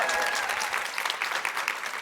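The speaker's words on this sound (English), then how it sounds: "Yes, round of applause." Dense, steady applause from an audience at a progressive media event, greeting the introduction of an author and activist. The clapping stays loud and continuous throughout, with no one speaking over it.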